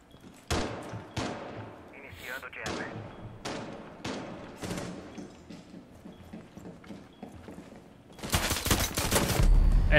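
Rapid gunshots crack through a noisy Rainbow Six Siege game soundscape, with scattered single shots early on and a dense, loud burst of firing near the end.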